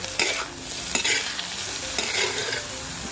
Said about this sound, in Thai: จากนั้นทำการผัดได้เลยค่ะ